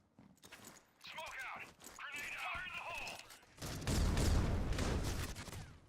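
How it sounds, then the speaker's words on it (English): Grenade blasts burst in a pro league tactical shooter match, a loud broadband detonation rumbling over scattered game noise and commentator talk. "those grenades are going to do some huge damage to the players"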